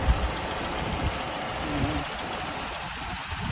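A used car with a 1.6-litre engine idles close by, holding a steady low rumble under broadband noise throughout.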